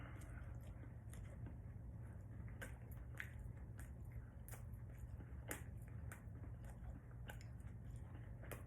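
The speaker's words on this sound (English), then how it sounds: "The steak's a little chewy" Close, quiet chewing of a bite of cheap, chewy steak, with repeated soft crunches and wet bites in an irregular rhythm over a low steady background hum.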